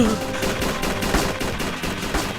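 Rapid gunfire from toy soldier troops in Roblox Toy SoldierZ, a fast clattering stream of shots layered over game sound, steady and moderately loud throughout the short stretch.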